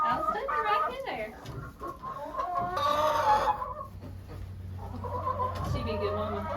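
Hens clucking and a rooster calling inside a chicken coop on a cold, rainy day, close and busy, with a louder burst of squawking midway and people talking over the birds.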